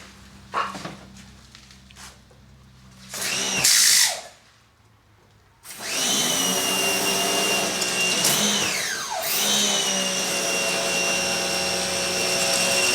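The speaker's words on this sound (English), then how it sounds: "now we're going to just blast it out with the cleaner" Cleaner is blasted under pressure through the frame of a Polaris Sportsman 500 quad: a couple of short loud spray bursts, then a long, steady, close hiss that runs to the end.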